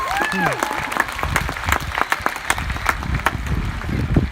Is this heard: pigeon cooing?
no